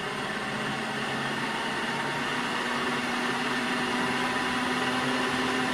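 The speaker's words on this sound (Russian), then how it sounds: "Мотор работает достаточно тихо, но с крыльчаткой стал шумнее работать." A restored Duplex-58 motor fitted with an impeller runs near 75 Hz, giving a steady, even whirring hum with airy rushing noise and a faint high whine, unchanging and continuous.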